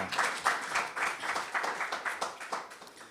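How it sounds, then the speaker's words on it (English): Audience at an academic panel session on digital skills and education applauds in a steady, moderately loud patter of clapping lasting a few seconds, without speech. "we should also applaud her"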